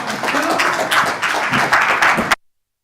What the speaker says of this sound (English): May I have a big applause?